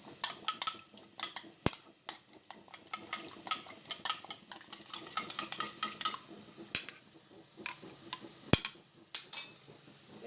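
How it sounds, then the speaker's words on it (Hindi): Yogurt being beaten into sautéed masala in a pan for kaddu kofta, with quick irregular spoon scrapes and clinks against the metal over a soft faint sizzle, no talking. "दही को और इसको हम अच्छी से फेंट लेंगे"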